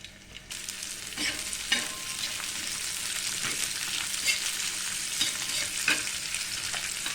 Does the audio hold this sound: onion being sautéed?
yes